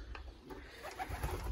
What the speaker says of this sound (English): Back in the pigeon loft.